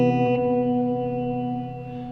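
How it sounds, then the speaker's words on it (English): A reverb effect on a MOOD guitar pedal lets a sustained guitar chord ring and slowly decay, its tone smeared into a washy, lingering tail that fades gently over two seconds. "And what if we try reverb now?"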